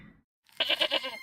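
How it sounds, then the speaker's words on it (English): A goat in the video game Broken Sword Reforged lets out a short, wavering bleat, close and loud, after a brief quiet moment with no talking. "Should I continue trying to talk to the goat?"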